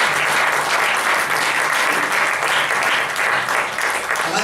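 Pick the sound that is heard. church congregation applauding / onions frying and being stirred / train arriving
church congregation applauding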